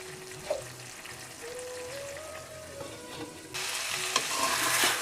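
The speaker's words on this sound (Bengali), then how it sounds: "এই তো আমার বেগুন ভাজাটা হয়ে গেছে, এখন নামিয়ে নেব" Eggplant fries in a pan with a steady sizzle and occasional stirring scrapes close up. Near the midpoint the sizzle jumps louder and brighter and stays strong to the end, with no one talking.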